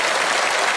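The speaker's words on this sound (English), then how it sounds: "Give yourselves a big round of applause" A studio audience on a magic-competition TV show claps in a dense, loud, continuous burst, close and even throughout.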